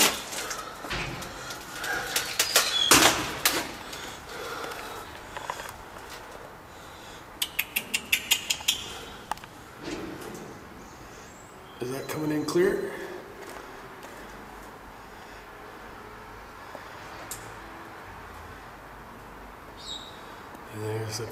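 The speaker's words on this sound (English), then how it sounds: "Well, here are all the birds." Pigeons in an old barn coo and flap their wings in a brief burst of rapid fluttering, heard faintly at a distance under a person talking in a hollow room.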